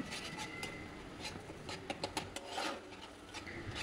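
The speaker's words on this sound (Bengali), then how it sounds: "আবার হলুদ দেওয়ার পরে এই পেস্টটাকে আমি কিছুক্ষণ আবার একটু নেড়ে চেড়ে নেব।" Spice paste with turmeric is stirred in hot oil in a pan, giving a faint, steady scraping and rubbing of the utensil against the pan, with scattered soft taps.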